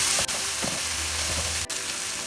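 Tomato frying in a pan on medium heat while being mashed and stirred, a continuous bright sizzle broken by two sharp scraping strokes, close and alone.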